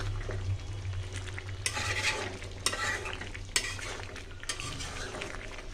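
Beef curry with turnip being stirred and sautéed in a pan over low gas: a steady close sizzle with repeated scraping strokes of a spoon against the metal, several louder bursts of stirring rising from the frying.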